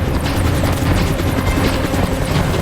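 Helicopter rotor noise from two choppers in the Resident Evil: Apocalypse film, a loud, steady thudding roar that fills the whole moment with no talk over it.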